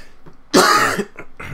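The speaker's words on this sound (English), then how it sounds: "Have the coughs today." A single loud, rough cough and throat clear bursts out close to the microphone, followed by a couple of softer throat sounds.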